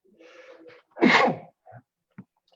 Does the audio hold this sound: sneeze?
yes